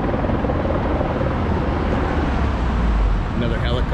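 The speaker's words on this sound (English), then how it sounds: "Another helicopter over there." A steady, heavy rotor roar of a helicopter over Hollywood Boulevard at the Academy Awards red carpet, constant and loud over street noise, with faint voices underneath.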